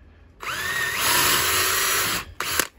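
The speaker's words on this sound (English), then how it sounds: "you want to get your drill as much in line, as square to that as you possibly can" An electric drill boring a hole in a powder flask whines loudly and steadily, the pitch rising as it spins up, then a brief stop and a short second burst.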